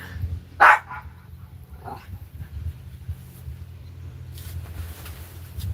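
A dog lets out one loud, close bark, then a softer short yip a second later, with quiet room noise in between and afterward.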